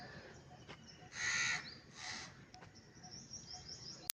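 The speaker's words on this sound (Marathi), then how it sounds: "चिमण्या आहे" Birds call at a zoo in Pune, a few short bright chirps and a harsher cawing note standing out over a faint, steady outdoor background.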